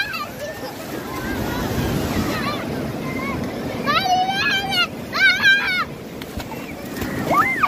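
Surf roars and rushes steadily up the shore, with wind buffeting the microphone, high excited children's voices and chatter breaking through over the waves.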